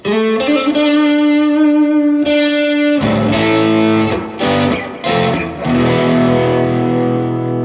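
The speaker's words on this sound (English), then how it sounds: "So now I've got a blues driver selected." Electric guitar through a Boss ME-80 Blues Driver overdrive into a '68 Fender Deluxe Reverb, warm and gritty, sustained chords followed by punchy strummed stabs, loud and close with no talking.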